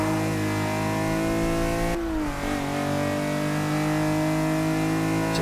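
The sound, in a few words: BMW M6 engine accelerating in video game Forza 6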